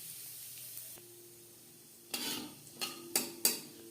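Half a spoon of whole cumin seeds sizzles quietly in hot refined oil, a faint steady hiss broken by a few sharper bursts and utensil clinks near the end.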